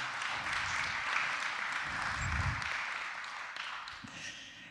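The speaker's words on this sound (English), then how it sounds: "Yeah, clap for him." A church congregation at a Sunday service claps together, a soft, fairly distant patter of many hands that eases off toward the end.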